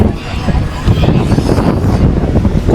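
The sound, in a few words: wind blowing on Pattinapakkam beach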